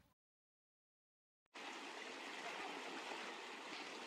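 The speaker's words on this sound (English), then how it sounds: "That's a good shower." A running shower starts abruptly after a short silence, then pours as a steady, loud hiss of water with no talk.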